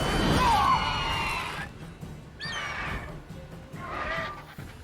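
A horse whinnies loudly in The Witcher video game with a wavering, descending call, then shorter neighs and snorts follow amid game-like ambience.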